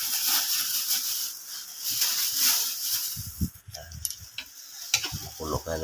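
Laing being stirred in coconut milk (gata) in a pot, with a gentle sizzle and scraping stirring sounds up close, and a few short bursts of voice and knocks near the end.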